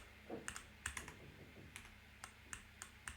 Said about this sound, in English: I've gotten used to just using the Windows shortcut keys